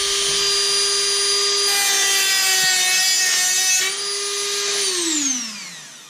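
A Dremel 3000 rotary tool cuts through a Nerf blaster spring, a loud high whine with shifting pitch as the wheel bites the metal, dropping off and winding down at the end, no talking.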